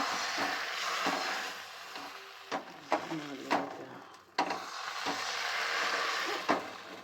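A spoon or ladle scrapes and knocks through a rice-flour pitha mixture in a pan for soru chakli pitha, irregular close stirring taps over a soft steady sizzle, with speech between.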